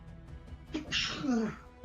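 A single close sneeze: a short inhale followed by a sharp, breathy burst, with quiet background noise before it.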